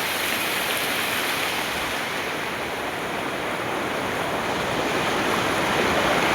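The Mahanadi river rushes in a steady, dense broadband roar of flowing water, continuous and fairly loud throughout, with no voices or other distinct sounds breaking through.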